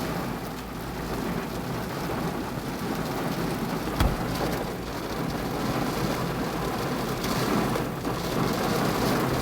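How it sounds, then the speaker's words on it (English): Steady rain falling with a dense, hissing wash throughout, a constant low hum underneath and a brief sharp crack midway, no voices present. "see how it's raining now?"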